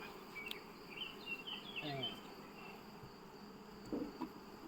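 A soft, steady insect drone with scattered buzzing close by, the low hum of many bees around an open hive, with no voices.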